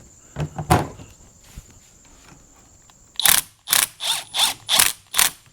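A ratchet tightening a 17mm nut on top of an Öhlins DFV coilover for a Honda S2000, a couple of clicks at first, then a pause, then six rhythmic close ratcheting bursts in quick succession.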